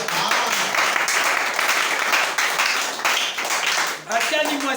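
A church congregation applauds in a loud, continuous burst of clapping, briefly dipping near the end, with cheering voices mixed in.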